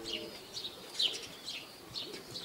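Faint, intermittent bird calls near a racing-pigeon loft after a pigeon race, with soft chirps recurring every half second or so at low level and no talk.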